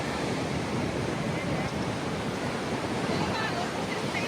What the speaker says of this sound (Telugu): చల్ల గాలి వస్తుంది ఇక్కడ.